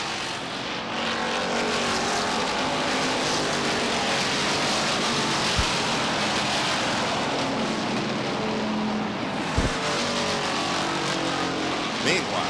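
Stock cars race around Beech Ridge Motor Speedway at a weekly 1991 short-track event, their engines a steady, loud broadband roar with cars passing throughout under continuous crowd and track ambience.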